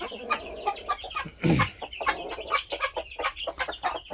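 Farmyard chickens with a rooster and young chicks, close, with frequent overlapping clucks and cackles, one louder call in the middle, and scattered scratching over a busy background.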